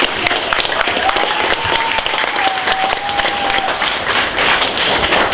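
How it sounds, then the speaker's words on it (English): An audience at a junior hackathon show-and-tell bursts into steady applause for a team, dense clapping holding for several seconds with faint cheering and a brief whistle-like tone over it. "can we have a round of applause for Team Banana Ducks?"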